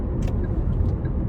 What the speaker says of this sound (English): these cars are acting crazy